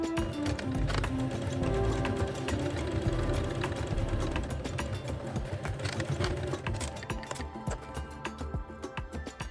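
A sewing machine stitches close to the edge of a Bali-style kimono jacket, producing a continuous, close, rhythmic mechanical chatter of rapid needle strokes that carries through the whole stretch with little change.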